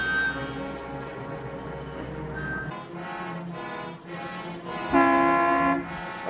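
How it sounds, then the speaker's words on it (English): A car horn honks in a dramatic film scene, sounding a loud sustained blast that swells near the end, with a low rumble early on and no talk over it. "What are you honking the horn for?"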